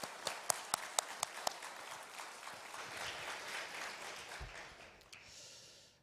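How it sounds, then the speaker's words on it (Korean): Congregation applause welcomes a new pastor at a Korean church evening service, opening with a few sharp separate claps that swell into a steady, fairly distant wash of clapping before fading out. "우리 기쁨으로 환영하는 박수로 하나님께 영광의 박수 올려드리고 목사님 환영하겠습니다"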